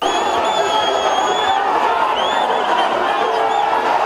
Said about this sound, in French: Au milieu d'une foule d'électeurs surexcités, Félix-Antoine Tshisekedi, en compagnie de son épouse, la distinguée Denise Nyakero Tshisekedi, a eu du mal à se frayer un chemin pour rejoindre le bureau